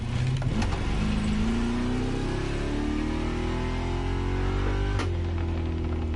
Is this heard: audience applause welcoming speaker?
no